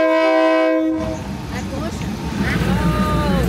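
A small tourist train heading to a train market sounds a long, loud multi-tone horn blast, then rumbles and clatters along while people talk nearby.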